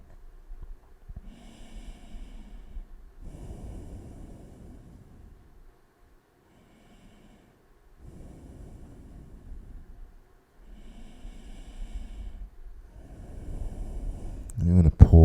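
Slow, deep breaths in and out during a yoga session, each long airy inhale and exhale lasting a few seconds with short quiet pauses between, close and soft, with a louder rush at the very end.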